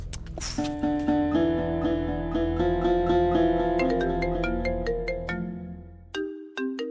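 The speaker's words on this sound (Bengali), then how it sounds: "কে যে তখন থেকে ফোন করে যাচ্ছে" A phone ringtone plays a loud, clear electronic melody of repeated tonal notes for about six seconds, then stops abruptly, followed by a couple of short tones, in a domestic TV drama scene.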